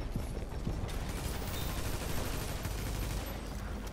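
A turret fires a dense, unbroken stream of rapid gunfire in the video game Tom Clancy's The Division, loud and sustained with mechanical rattling throughout.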